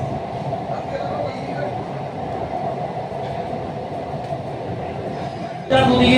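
A metro train runs through the underwater tunnel beneath the Ganges between Howrah and Esplanade, a steady, close rumble heard from inside the car. A brighter burst of sound rises near the end.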